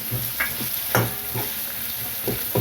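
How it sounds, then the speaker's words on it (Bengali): Chopped onions frying in a pan for a cabbage dish with small tangra fish, a dense continuous sizzle broken by rhythmic stirring scrapes. "আমি পেঁয়াজ দেবো পেঁয়াজ কুচিগুলো ভেজে নেব"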